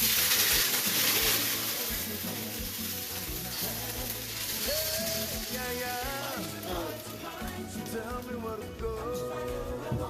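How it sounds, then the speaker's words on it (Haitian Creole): Water being poured into a cooking pot before boiling rice, a continuous near splashing and running hiss that fills the whole stretch, with faint kitchen clatter. "on va mettre de l'eau."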